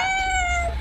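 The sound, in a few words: house cat meowing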